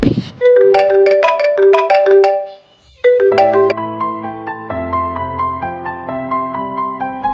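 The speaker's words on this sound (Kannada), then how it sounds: "ನಿಮಗೆ ಇವಾಗ ಒಂದು ಫೋನ್ ಕಾಲ್ ಬರುತ್ತೆ ನೋಡಿ" A mobile phone ringtone plays loudly up close, a bright repeating melodic tune that pauses briefly, then resumes as a slower, sustained chiming pattern until it cuts off.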